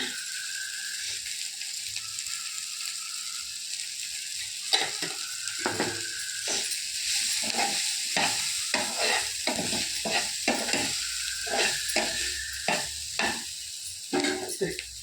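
A spoon or spatula scrapes and stirs through sizzling eggplant in a pan, with steady frying hiss and irregular scraping strokes, close up and without talking.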